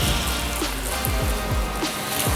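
Water sprays onto a car's surface to mimic rain, making a steady close hiss and patter with scattered drip and splash accents throughout.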